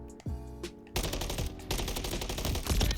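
Rapid automatic gunfire in a Modern Warfare III beta gunfight, dense bursts of shots running nearly continuously for most of the span after a brief quieter lead-in.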